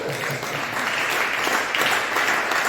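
A church congregation at a French-language service claps together in a dense, continuous burst of applause that fills the space evenly throughout.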